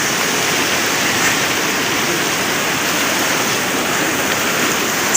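A rushing stream, a nala crossed on the K2 base camp trek near Paiju in Pakistan's Karakoram, roars as steady, loud broadband water noise throughout, with no voices.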